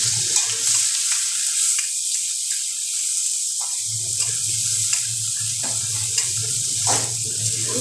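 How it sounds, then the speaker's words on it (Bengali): Chopped onion and garlic sizzle in hot oil over a low gas flame, a steady close crackling hiss with small pops running throughout, and no talking. "প্রথমে তেলের মধ্যে পেঁয়াজ আর রসুনগুলো দিয়ে দিচ্ছি"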